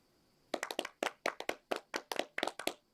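In the Sonic Boom cartoon, a few distinct, sharp handclaps sound close and alone against a quiet background. They come in uneven bursts for about two and a half seconds, like sparse, half-hearted applause.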